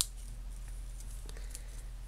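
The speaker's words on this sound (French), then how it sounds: "on va couper notre fil." Scissors snip through craft thread during a scrapbooking embellishment project, a few faint clicks and snips over a steady low hum, quiet and close.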